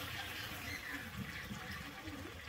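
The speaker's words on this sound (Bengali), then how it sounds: "এরপরে আমি দিয়ে দিচ্ছি পরিমাণ মতো জল।" Water is poured into a pan of cooked-down spice paste for a Bengali koi fish curry, giving a soft, continuous gushing and bubbling wash of liquid that is fairly faint throughout.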